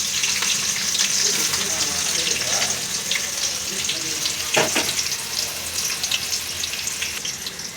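Three sliced onions go into hot oil for a vegetable biryani, giving a steady, close frying sizzle throughout with a few stirring touches.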